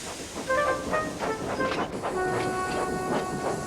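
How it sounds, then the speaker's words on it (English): A steam engine whistle sounds in several short toots over a hissing, rumbling rail background, fairly loud and close. "he heard an engine whistle"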